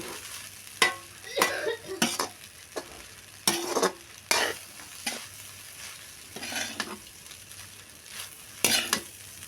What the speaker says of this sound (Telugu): కలుపుతా ఉంటే పొడి పొడిలాడుతుందండి బాస్మతి బియ్యం